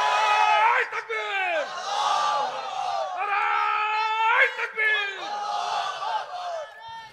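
A large crowd chants the takbir slogan Allahu Akbar in loud, rising and falling unison cries at a religious sermon gathering, repeated several times in rhythmic waves.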